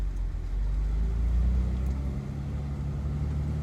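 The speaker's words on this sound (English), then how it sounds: "And we're gonna pull out of the driveway here." A 2004 Jeep TJ with newly replaced rear spider gears pulls out of a driveway in first gear, a steady close low engine drone that rises slightly then eases.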